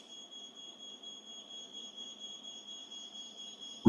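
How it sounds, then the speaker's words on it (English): A ground-floor household smoke alarm sounds a continuous, shrill electronic tone during a test house fire in which a wicker chair is burning, with a faint low rumble underneath. "The ground floor smoke alarm activates."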